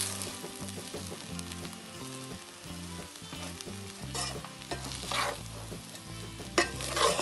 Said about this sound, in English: Mix the rice well.